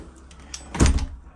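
An old VW Polo door being pushed against its worn lock and hinges and failing to latch: a soft rattle, then a dull low thud with a brief metallic clack, close up and alone.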